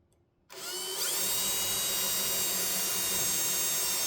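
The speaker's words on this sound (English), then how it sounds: "You just don't want to drill through both layers, or you'll have a hole in your trailer." Power drill boring through a double-walled teardrop trailer cover, starting abruptly after a quiet moment and winding up into a steady high whine that runs to the end, close and loud with no voices.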